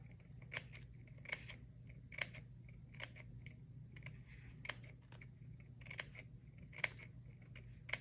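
Sharp scissor snips cutting paper, close and crisp, come one at a time at irregular intervals over a low steady hum.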